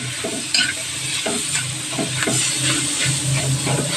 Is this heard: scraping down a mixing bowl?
no